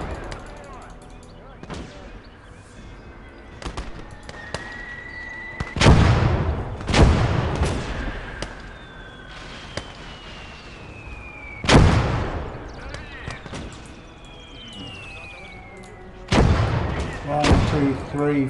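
Heavy gun blasts and explosions from the World War II strategy game Gates of Hell boom out at irregular intervals over a steady battlefield din, with scattered smaller shots and whistling shells between the loud hits.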